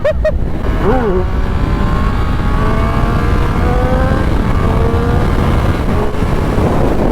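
Triumph Speed Triple RS 1200 motorcycle engine accelerating hard on a racing circuit, revving through the gears with rising and falling pitch, loud and steady with heavy wind noise throughout.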